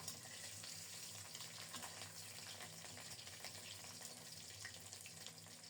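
Eggs fry in hot oil with a continuous, fairly quiet sizzle and soft spattering that stays even throughout, without talk.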